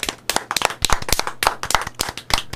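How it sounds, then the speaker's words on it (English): A lively round of applause from a small group, with dense, uneven hand claps, some sharp and close, continuing steadily with no talking. "everyone, give a round of applause to the kind spirit bringing us banana bread."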